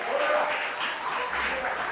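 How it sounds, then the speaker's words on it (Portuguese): A church congregation claps in praise, a dense, continuous wash of many hands that swells early and holds steady, with faint voices mixed in. "louve ao Senhor com as palmas"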